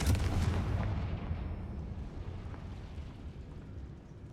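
A Confringo fire spell blasts in a Hogwarts Legacy-style wizarding video game, a loud booming burst at the start that rumbles and decays into a long, gradually fading roar.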